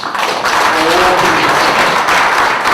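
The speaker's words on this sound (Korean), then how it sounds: "박수 좀 부탁드리겠습니다" Broad, dense applause from an audience at a political party policy meeting, filling the clip steadily and loudly from start to finish without pause.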